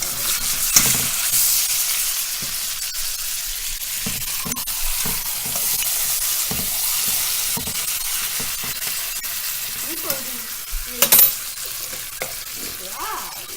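New York strip steaks sizzle and fry in butter in a heavy pan, a loud continuous close crackling hiss with occasional stirring and a brief clink of a utensil near the end.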